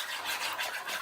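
Glue and shaving foam being stirred into fluffy slime, a soft continuous scraping and squishing rub that stays close and steady for about a second, with no voices.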